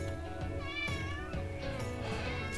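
A cat meows insistently in a few drawn-out, wavering calls, close and fairly loud, alone with no talk over it.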